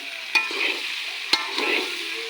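Jackfruit fries in a pan with a steady close sizzle, broken by two sharp clinks of a utensil against the pan.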